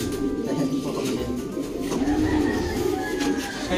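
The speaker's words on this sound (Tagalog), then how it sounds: "May hawak-hawak na kalapati. Ayan, mukhang korsonada ata yung hawak niya." Pigeons cooing in a breeder's loft, a coronada-type bird among them, with soft overlapping low coos running steadily under a busy, close background.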